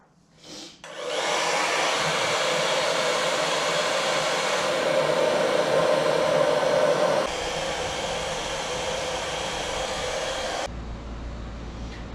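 A heat gun blows steadily while warming smoke tint film on the light of a 2018-2019 Mustang GT, a loud continuous whooshing roar that runs for about ten seconds before dropping to a lower hum.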